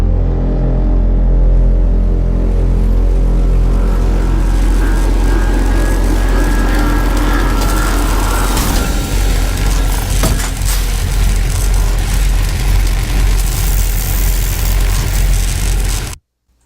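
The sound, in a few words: sci-fi dropship arrival sound effect with jet and engines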